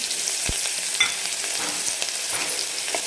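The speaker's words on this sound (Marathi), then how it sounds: "आणि सोनेरी कलरवर आपल्याला याला मस्त असं फ्राय करून घ्यायचं" Chopped onion frying in oil spiced with whole spices and a pinch of asafoetida for a Maharashtrian masala brinjal dish, giving a steady close sizzle with occasional stirring clinks, no voices.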